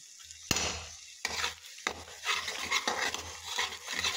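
Masala paste being sautéed and stirred in a pan, with sharp scraping strokes of a spoon against metal over a soft sizzle, close and irregular.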